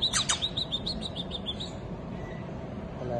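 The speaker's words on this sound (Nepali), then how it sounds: "यो चराको नाम हो सनकिनी हो। एकदमै यो चाहिँ चलाक खालको चरा हो।" A pet bird gives a quick run of bright, high chirps near and clear for the first half, then falls quiet over a soft background hiss.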